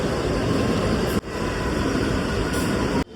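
A loud, continuous rumble of a Mumbai local train arriving at Chhatrapati Shivaji Maharaj Terminus, steady and close, with abrupt breaks in the noise.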